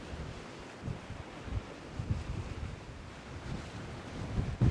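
Wind gusts across the Bristol Channel shore at Brean Down during fishing, buffeting the microphone with a low, rumbling roar that swells and eases. The sea surges faintly beneath it, and no one speaks.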